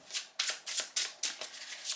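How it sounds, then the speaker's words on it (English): A deck of tarot cards is shuffled by hand in quick bursts, about seven crisp riffles in steady rhythm, close and clear with no talking. "I'm shuffling your cards with intention to find out what you can expect in the month to come."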